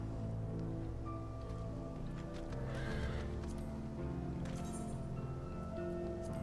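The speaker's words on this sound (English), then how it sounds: "Here is Earth Horse. Got rocks around his feet." Earth Horse mount from Final Fantasy XIV neighing with steady clip-clop hoofbeats, set against continuous game ambience and a soft layer of rain and rustling.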